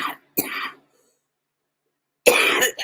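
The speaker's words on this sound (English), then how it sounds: "I hate coughing all over you guys." Someone coughs harshly twice up close, then after a silent gap lets out another rough, loud coughing burst.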